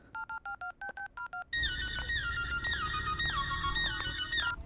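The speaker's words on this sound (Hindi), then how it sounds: "मनु को फोन करके उसे मंगवा लेती हूँ और इंजीनियर को भी कॉल करती हूँ।" A phone keypad beeps out a run of eight short dialing tones in steady rhythm, followed by a denser stream of electronic tones over a louder background, close and clear.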